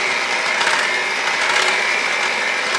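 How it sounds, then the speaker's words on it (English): An electric hand mixer whirs steadily at high speed, beating milk into a hot mixture, a continuous buzzing motor drone with slight fluctuations, close and fairly loud, with no talking. "I'll grab my mixer. I'll start mixing that in."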